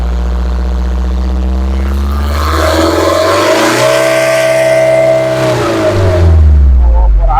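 A Jumbo engine, freshly tuned at the pump and injectors, is revved up gradually: its loud, close drone climbs steadily in pitch, holds high, then drops back toward idle.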